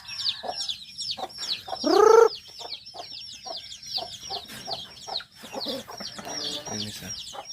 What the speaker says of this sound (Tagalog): Yung mga manok natin, guys.